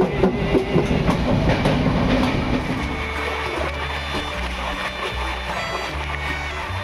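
The 12337 Shantiniketan Express runs on rails from Howrah toward Bolpur, a loud continuous rumble heard from on board with rhythmic clatter, easing into a steadier low drone with regular clacks.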